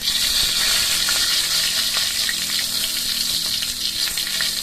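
Cumin seeds and two bay leaves hit hot oil in a pan and set off a dense, loud, steady sizzle that crackles close by without pause.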